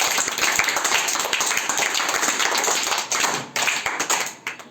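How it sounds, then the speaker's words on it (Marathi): A group of children clapping in a classroom, a dense stream of brisk, fairly loud hand claps that tapers off toward the end, with no clear three-clap grouping standing out. "तीन तीन टाळ्या हां वन टू थ्री स्टार्ट"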